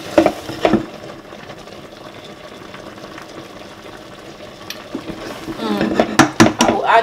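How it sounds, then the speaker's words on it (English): Oatmeal fufu sizzles and bubbles in a pot on a Nigerian home stove, a steady close simmer with stirring and utensil knocks growing louder toward the end, under occasional talk. "Meanwhile, that is my oat here. It is sizzling."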